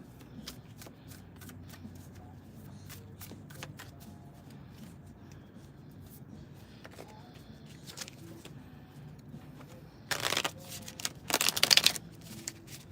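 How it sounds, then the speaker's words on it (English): A deck of cards shuffled by hand, a run of light riffles and snaps, faint at first, then louder, rapid bursts of cards riffling together near the end. "Make sure the cards is good and shuffled, good and mixed up."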